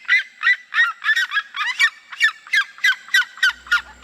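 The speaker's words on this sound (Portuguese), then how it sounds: "E já começo pelo som alegre mais popular da roça, o da seriema." A red-legged seriema delivers its loud laughing call in the countryside, a rapid rhythmic series of a dozen or so harsh yelping notes that stays strong throughout, close and alone without any voices.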